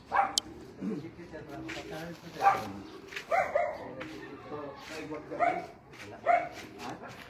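Dogs bark repeatedly at a moderate distance, short sharp barks spaced every second or so, with a person talking quietly in between.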